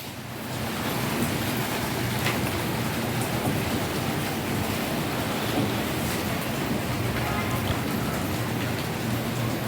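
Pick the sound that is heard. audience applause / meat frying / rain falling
rain falling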